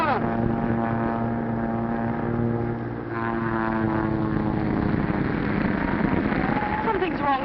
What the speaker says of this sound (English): Something's wrong with Martin's plane.